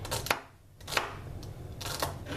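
A knife chops celery on a cutting board in a few quick, crisp strokes with short pauses, close and fairly quiet.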